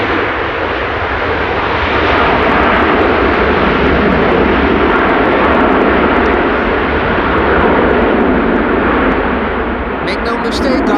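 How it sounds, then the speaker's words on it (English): A Delta Airlines Airbus A330-300 landing at Amsterdam Schiphol in windy weather, a loud, sustained jet engine roar close by that holds steady for the whole stretch with heavy wind rumble underneath. "This is Delta Airlines Flight 136 arriving from Detroit, Michigan. A330-300"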